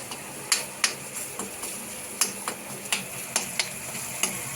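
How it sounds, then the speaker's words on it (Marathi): Onion and tomato stirred in a pan for pav bhaji: a soft sizzle under repeated spoon scrapes and light taps in an uneven rhythm, close and moderately quiet, with no voices. "पूर्ण हलवत राहायचं आहे जेणेकरून पटकन शिजणार नाही, खाली चिकटणार पण नाही"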